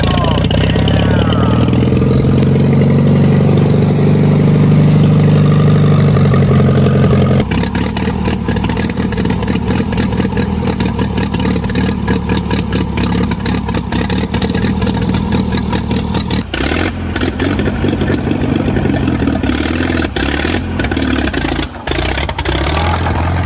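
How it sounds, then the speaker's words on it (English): A 1945 Allis Chalmers WD four-cylinder, 26-horsepower orange farm tractor cranks and catches, then settles into a loud, close, uneven running rumble with rhythmic engine pulses and occasional surges. "a 1945 Alice Chalmers WD, a 4-cylinder farm tractor, humming to life with a steady purr"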